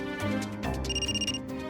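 A telephone rings during an outgoing call, giving a short, fairly quiet burst of rapid repeated electronic trilling over a low steady hum.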